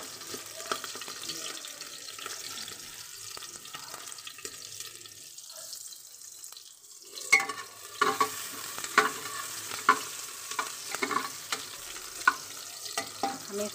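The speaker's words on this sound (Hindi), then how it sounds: "मेरा ऑयल तेज हो चुका है और मैं इसमें डालने जा रही हूँ अपनी प्याज जो मैंने काट के रखी थी" Chopped onions frying in hot oil: a hiss that drops off briefly midway, then returns with a string of sharp stirring clatters and crackles near the pan.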